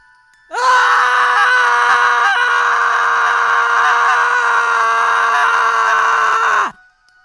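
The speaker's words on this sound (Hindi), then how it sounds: "कहीं कहीं मुर्गे की बांग सुनाई दे रही है" A long, loud, sustained crowing cry held for about six seconds with a strong harmonic tone, heard alone and close by.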